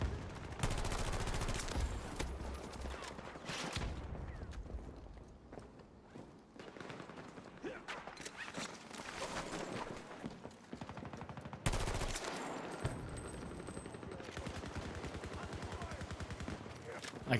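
Rapid gunfire from a Battlefield video game firefight, bursts of automatic shots running nearly continuously with brief lulls, loud and close, with occasional footsteps mixed in.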